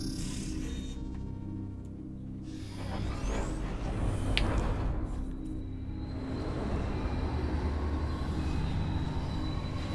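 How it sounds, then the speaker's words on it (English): A huge tram in Metroid Prime 3 rolls in with a heavy rumbling drone and metallic screeching wheel squeals, loud and sustained, swelling as it arrives, with no voices over it. "What a big tram!"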